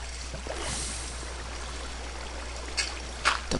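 Flowing water in the video game Minecraft, a steady low trickling stream that runs throughout, with a few faint clicks near the end.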